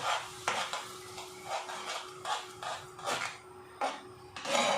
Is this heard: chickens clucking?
no